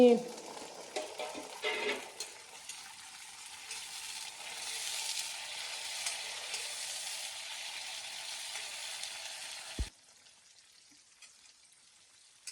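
Three small chopped tomatoes drop into onions frying in a pan for a wild mushroom curry, bursting into a loud, close sizzle that hisses steadily, then cuts off abruptly with a dull knock.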